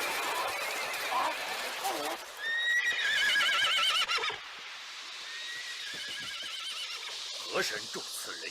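A horse whinnies loudly several times amid clip-clopping hooves, in a dramatic scene of a horse leaping up a cliff; voices and other cries mix in around the neighs.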